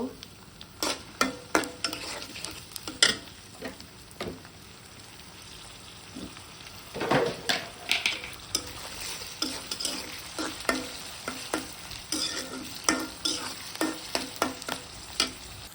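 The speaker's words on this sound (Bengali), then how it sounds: "আমি এখন চিংড়ি মাছ ভালোভাবে ভেজে নিব" Prawns frying in a pan with onion and dried chilies, a steady close sizzle broken by frequent sharp scraping and clinking stirs of a spatula throughout.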